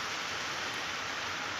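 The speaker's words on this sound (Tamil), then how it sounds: "எவ்வளோ நேரம் தான் மழை பெய்யுமோன்னு பார்ப்போம்" Heavy rain falling steadily in Kasaragod, a dense, even hiss with no pauses or voices.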